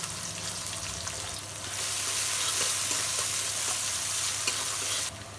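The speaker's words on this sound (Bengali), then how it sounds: "তার জন্য কড়াইতে দিয়ে দিয়েছি তেলের উপরে দিয়ে দিলাম লবঙ্গ, দারচিনি, এলাচ" Whole cloves, cinnamon and cardamom frying in oil in a wok, a close, steady sizzle that swells louder midway and holds, with soft stirring scrapes and no talk.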